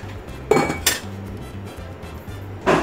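Metal pot lid set onto a cooking pot on the stove, a few close clinks and clanks of metal against metal with no talking.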